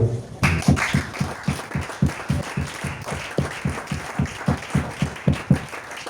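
A church congregation applauding in rhythmic unison, loud, even claps repeating about three times a second, without any talk.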